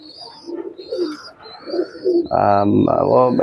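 A kaldom high-flying racing pigeon gives soft repeated coos up close while someone talks. A loud, harmonic-rich cry that is probably a voice overlaps the later part.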